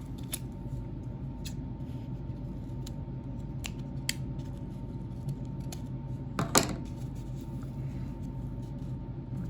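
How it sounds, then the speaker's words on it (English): Sparse, sharp snips of sharp scissors sawing through tough material recur at irregular intervals over a faint steady hum, with one longer, louder cut near the end. "Gotta really saw at it, and these are sharp scissors."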